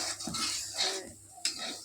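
Potatoes frying in a pan, with a short burst of steady hiss broken by a few stirring clinks of a utensil against the metal.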